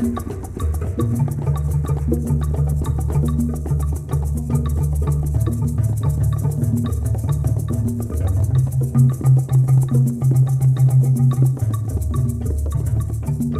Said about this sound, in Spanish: Marimbolo, marímbula, que suena así.